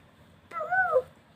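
A small child imitates a cat with a single short meow, a rising then falling vocal glide of about half a second, close and clear against a quiet room.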